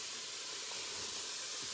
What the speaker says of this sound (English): I'm throwing in the onions and the leeks, and you can hear that that is sizzling already.